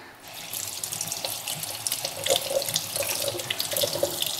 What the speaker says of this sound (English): you can see the water just flows over that surface and doesn't bead at all